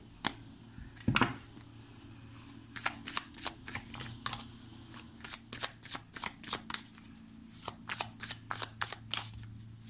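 A deck of Light Seers tarot cards is shuffled by hand, a near, quiet sequence of quick riffling flutters and soft slaps that comes in bursts, gradually settling into a steady, brisk rhythm.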